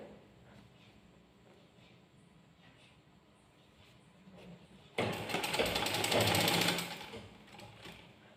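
Sewing machine stitching knife pleats in a silk skirt, running as a fast mechanical whir that starts abruptly partway through and grows loud, after a quieter stretch of faint background noise.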